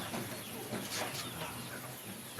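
A crowd of chickens on a poultry farm of about a thousand hatched birds keeps up a dense, continuous clucking chatter, close and busy, with no voices.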